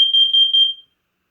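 A Nest Protect alarm sounding its carbon monoxide test tone: a loud, piercing electronic beep pattern of three close pulses, then silence.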